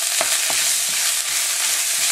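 Red curry paste, about a spoon and a half, sautéing in a hot wok for a fish red curry, a loud, steady sizzle with a few soft stirring scrapes.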